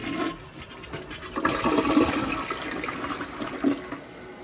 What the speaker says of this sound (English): Let's try a big flush.